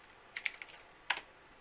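A short command is typed on a computer keyboard, a quick burst of four or five crisp key clicks followed by a pause and two more taps, close and quiet in an otherwise still room.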